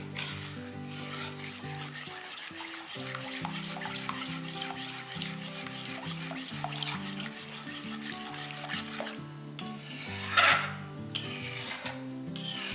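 A ragi and jaggery mixture is stirred and scraped in a kadhai as it thickens, making repeated soft rasping and rubbing strokes, with one louder scrape near the end and no talk.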